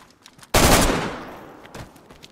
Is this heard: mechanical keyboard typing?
no